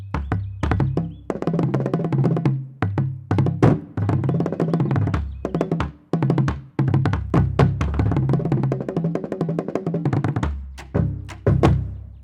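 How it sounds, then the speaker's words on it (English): Marching bass drums played in a steady pattern of deep, booming tuned strikes moving between pitches, with loud close hits, brief rolls and a couple of short gaps, no voices. "These are marching bass drums."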